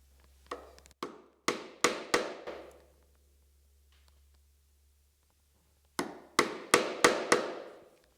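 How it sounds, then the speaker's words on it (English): A chisel struck with a mallet to chop wood at a dovetail scribe line: a burst of five or six sharp, close knocks, a pause of about three seconds, then another quick series of five. "stepping in front of my scribe line with my chisel registered real low in my hand"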